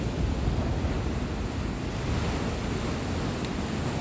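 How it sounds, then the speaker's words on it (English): Ocean waves by the shore, a steady broad rush of surf mixed with wind buffeting the microphone, continuous and fairly loud, with no voices. "It's amazing, the power of the ocean."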